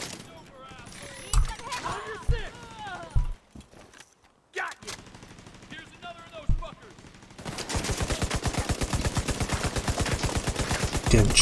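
Gunfire in the shooter The Division 2 snaps out as scattered single shots mixed with game sounds, then turns into a long, steady, fast automatic burst near the end, loud and close.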